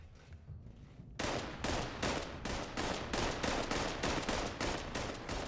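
Automated turrets in Fallout 76 open up after a brief quieter lead-in, a loud, close, rapid stream of gunfire bursts repeating in a steady rhythm for several seconds.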